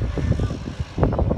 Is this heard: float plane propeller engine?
yes